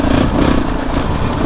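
Yamaha Raptor 350 quad engine running loud and close, a dense continuous rumble with steady throbbing and no talk over it.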